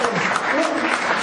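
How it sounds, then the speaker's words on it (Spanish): A standing church congregation gives a loud round of applause, a close, dense burst of clapping with voices mixed in beneath it. "brindemos un fuerte aplauso"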